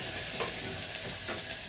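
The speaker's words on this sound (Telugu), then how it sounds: "చాలా చిన్న ఎర్రగడ్డ వేస్తున్నాను" A small red onion drops into a hot frying pan and sizzles steadily with a few soft stirring scrapes. The sound is quiet and close, with no voices.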